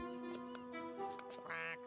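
A voice imitates a duck in a German Barbie cartoon, giving several short nasal quacks in quick succession, close and clear over a faint music bed.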